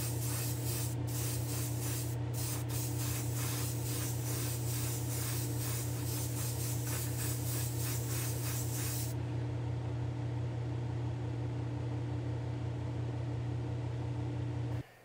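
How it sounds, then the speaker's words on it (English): Primer sprayed from an aerosol can onto a diecast model car body, a steady hiss running for about nine seconds in short pulsing bursts over a constant low hum, then the spray stops and only the hum remains. "I'm gonna go throw some primer on this."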